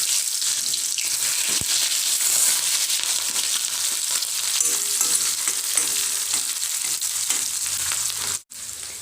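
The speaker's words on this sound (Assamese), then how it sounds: "এতিয়া দি দিছোঁ কেঁচা জলকীয়া আৰু পিঁয়াজখিনি" Chopped green chillies and onions hit hot oil already spiced with cumin in a pan for an Assamese potato and small eggplant fry, giving a loud, steady, close sizzle that continues unbroken until a brief cut near the end.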